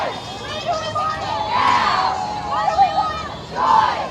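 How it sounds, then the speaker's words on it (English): An outdoor crowd rallies for abortion rights in front of the Lexington courthouse in Kentucky, raising loud, swelling waves of collective chanting and cheering in repeated surges. "crowds gathered in front of the Lexington courthouse to rally in support of abortion rights"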